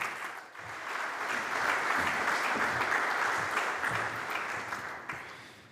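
Audience in a large auditorium applauding as the next speaker, a university dean, is called to the stage; sustained, even clapping from many hands, swelling slightly and then tapering near the end.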